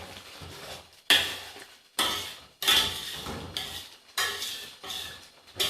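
A spoon stirs chicken korma with coriander and onions in a pot, giving a series of distinct metallic scrapes and clanks in uneven strokes, each followed by soft sizzling, close and alone.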